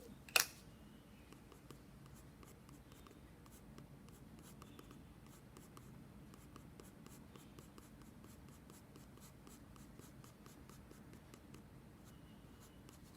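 Pencil strokes scratching steadily across paper while sketching an owl's head, soft and close with a brisk repeated rhythm and one sharp click near the start; no voices.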